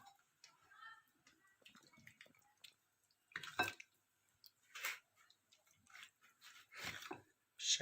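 Lemon water poured by hand at home, giving soft irregular splashes and drips in short bursts, fairly quiet and close, with no talking.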